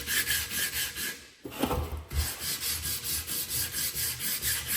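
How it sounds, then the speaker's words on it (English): A custom motorcycle scrape fender sanded by hand with 80 grit paper on a Durablock, giving close, rhythmic back-and-forth rasping strokes that settle into a steady, even beat. "Now we're just gonna sand this down. This is 80 grit, SEM. Just a Durablock, which will work fine for this."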